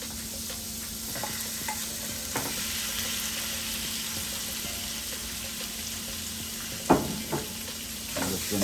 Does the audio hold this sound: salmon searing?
yes